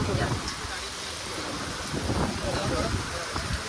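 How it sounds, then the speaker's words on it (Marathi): Dense, steady rush of heavy rain with gusty noise, muffled voices faintly underneath. "अरे देवा पाऊस वाढला परत अजून"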